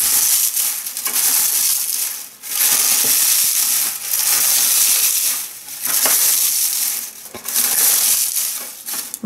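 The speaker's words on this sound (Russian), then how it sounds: "Лип, конечно, надо было бы немножко измельчить" Dried linden herbs are crushed by hand close to the microphone in loud, crackly bursts of rustling, repeated several times with brief pauses between.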